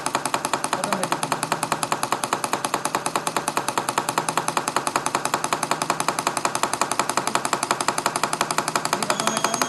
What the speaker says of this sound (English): you can able to see the automation of this double acting cylinder